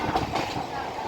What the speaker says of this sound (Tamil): இந்த ட்ரெயின் வருது பாருங்கள், இதான் பீச் டு வேளச்சேரி போகிற ட்ரெயின்.